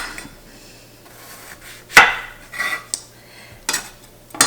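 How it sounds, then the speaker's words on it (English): A knife cuts the ends off lemons on a board, giving a few sharp taps and scrapes with short gaps of quiet between them. "So we're going to cut off each end and cut off till you can see"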